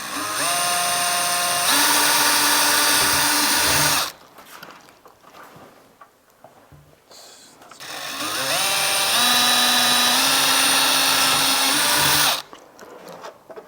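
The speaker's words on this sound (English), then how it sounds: "Drilling into the carbon," Power drill boring into a carbon fiber trunk lid for a Honda S2000, two loud sustained runs of whining motor noise with a quiet pause between them, close up.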